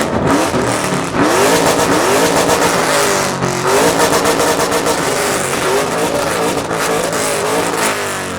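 Two Ford Mustangs with 3-valve engines rev hard in turn at an outdoor Mustang car show, loud and close, with repeated throttle blips and sustained high-rev roars that rise and fall continuously.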